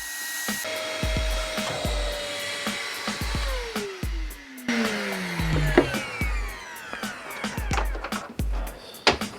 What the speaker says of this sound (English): it's sucking up the muck from the drain pipe, and hence why it's shaking the pipe